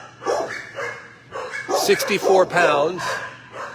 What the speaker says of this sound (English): What a handsome dog you are, Leo.